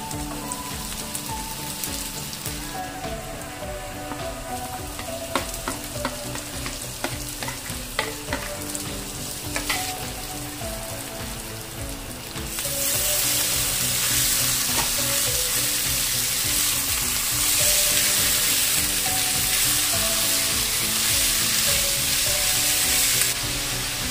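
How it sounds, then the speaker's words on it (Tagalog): Garlic sautéing in a hot pan, a steady close sizzle that jumps to a louder, fuller frying hiss partway through with occasional stirring clinks, no voices. "Magigisa muna tayo ng bawang."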